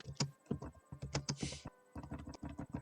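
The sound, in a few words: typing on a computer keyboard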